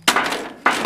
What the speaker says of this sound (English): looks like the new sounds of dropped weapons can be actually scary